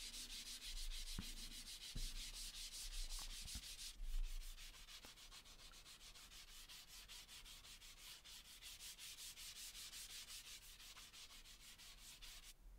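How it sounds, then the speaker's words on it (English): Scrap wood rubbed by hand with 120 grit sandpaper, a quiet, close, steady rasping made of quick back-and-forth strokes, with a few light knocks near the start. "I took some 120 grit sandpaper and gave it a sanding down"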